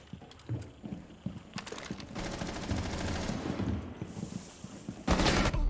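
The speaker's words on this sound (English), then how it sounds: "there's a person shooting at you" Video game gunfire from a competitive shooter match: scattered sharp shots, then a sustained rattling burst and a loud final volley, with clattering mechanical noise underneath, fairly loud and close.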